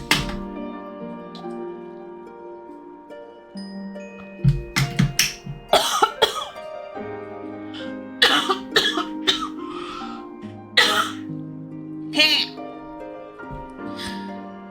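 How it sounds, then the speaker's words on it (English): A person coughs several times in rough, close bursts, with throat clearing between them, over soft background music. "I got a cough coming still."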